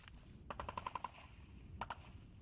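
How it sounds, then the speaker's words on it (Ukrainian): Machine gun fire at front-line positions near Yasynuvata in rainy weather, a rapid burst of about six sharp shots followed by a shorter pair, distant-sounding over a low rumbling background. "зустрічають дощем, сирими окопами та кулеметними пострілами"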